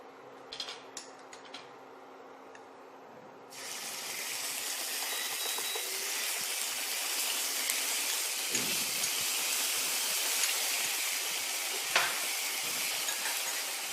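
A loud, steady sizzle of ginger, garlic and green chilli paste frying in hot oil, starting after a few quiet seconds of clatter, with occasional stirring scrapes.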